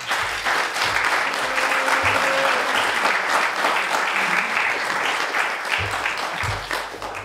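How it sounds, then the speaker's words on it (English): Audience applause at a live event, a dense steady roar of clapping hands that holds strong for several seconds before tapering slightly, with a few voices mixed in. "If you can quickly give me a round of applause for Aretha Rodney McDonald."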